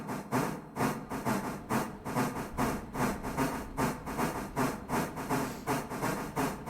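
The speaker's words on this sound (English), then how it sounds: "Oh yes, she is chuffing." Steam locomotive chuffing in the Railroader train game, a steady rhythmic series of about twenty loud exhaust beats with hissing between them, the pace quickening slightly as the engine gets underway.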